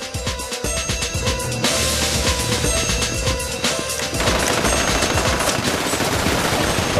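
A minigun fires in GTA V Online, a loud, continuous rapid stream of gunfire that runs without pause and grows denser partway through, with no talk over it.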